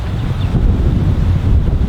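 Strong wind blowing at the coast by the water, a steady, loud low roar buffeting the microphone throughout, with no voices.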